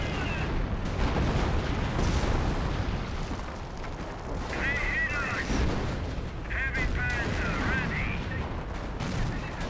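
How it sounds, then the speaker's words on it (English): Artillery fire in the video game Company of Heroes rumbles as dense, continuous distant booms and crackling battle noise, with a commentator talking over it. "Artillery running in right there."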